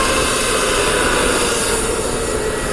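A Southwest Boeing 737 MAX 8 taxis toward the runway, its jet engines giving a loud, steady roar with a continuous broadband whine that holds level throughout, with no voices over it.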